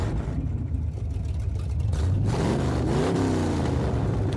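Koenigsegg Regera supercar in a video game, steady engine drone that swells into a sharp rev with rising pitch partway through, close and loud.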